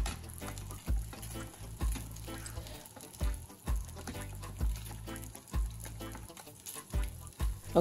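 Sea bream fillets frying in a pan, a continuous crackling sizzle with irregular spits and pops, interrupted by repeated low thumps and clatter as the pan and fish are handled.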